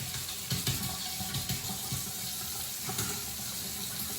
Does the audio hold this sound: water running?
yes